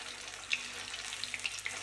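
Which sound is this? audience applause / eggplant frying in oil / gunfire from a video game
eggplant frying in oil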